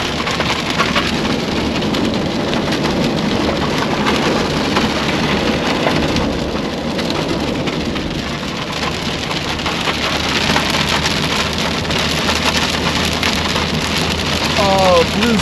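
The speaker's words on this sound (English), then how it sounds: "It's been hailing here bad." Hail hammering a car during a drive, a dense steady clatter of pellets on the roof and glass, loud and continuous throughout with a rain-like wash of impacts.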